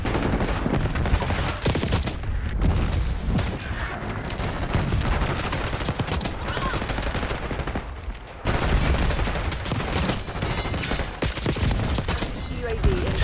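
Dense, rapid gunfire rattles almost continuously in bursts, with booming shots and a brief lull midway, loud and close, in a Black Ops 6 Warzone battle.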